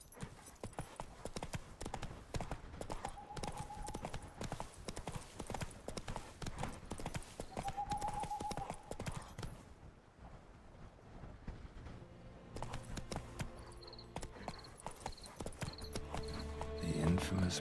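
Galloping hooves of a horse in The Witcher 3, fast rhythmic clip-clop thuds running steadily under quiet game music, easing off midway before resuming, with someone speaking briefly.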